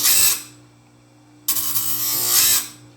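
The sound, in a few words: chainsaw grinder sharpening a sawmill blade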